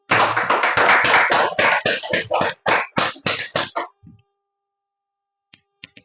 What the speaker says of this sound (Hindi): जोरदार टाळ्या होत्या त्यांच्यासाठी